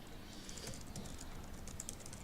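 Quiet, rapid clicking of keys on a computer keyboard during coding, a faint run of soft taps with no speech.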